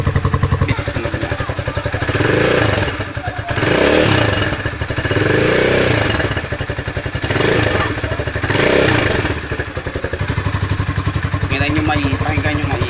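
Rusi Classic 250 motorcycle with a modified stock exhaust idles with a steady rounded thump, swelling in a few gentle revs before settling, close and loud throughout.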